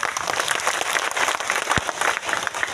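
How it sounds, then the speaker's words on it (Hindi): Audience at a political gathering breaking into a loud, dense round of clapping that holds steady throughout, close and full with no talking over it. "इनके लिए एक बार जोरदार ताली बजाइए।"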